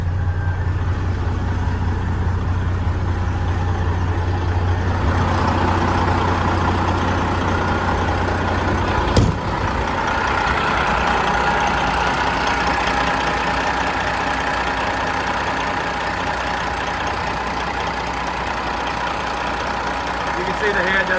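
A 2015 Freightliner Coronado triaxle glider-kit day cab truck idles with a steady, even low rumble and hum that holds throughout, with one brief click partway through.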